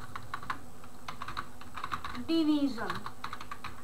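Keys clatter on a computer keyboard in quick, light taps while writing code in VS Code, close and soft, with someone briefly speaking over the typing.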